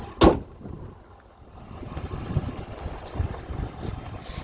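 After a single sharp thump, a 2017 Ford F-350 Super Duty Dually FX4 pickup settles into a low, steady idle, a smooth and fairly faint rumble without revving.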